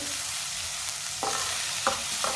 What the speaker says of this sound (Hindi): प्याज को ना 1 मिनट के लिए पका लेंगे।